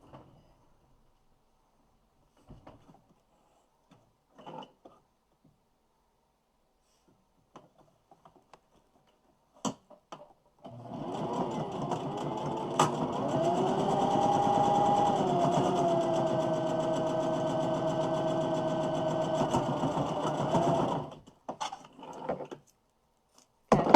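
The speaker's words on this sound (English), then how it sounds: "I'm going to sew these two, and then sew this to this" A sewing machine runs steadily for about ten seconds, joining quilt pieces in a home sewing setting, a close continuous motor hum and needle whir framed by quiet handling clicks before and after.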